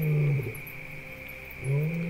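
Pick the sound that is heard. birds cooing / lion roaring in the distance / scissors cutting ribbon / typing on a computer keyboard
lion roaring in the distance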